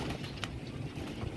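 Many pigeons in a crowded loft of Kasni and Saleti Kamangar breeds, a steady mass of soft low cooing and rustling, with faint chirps and wing shuffles throughout.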